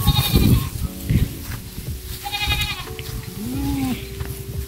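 Goats bleating on a small farm, several wavering calls near the start, middle and end, some near and some farther off, with light chatter in between.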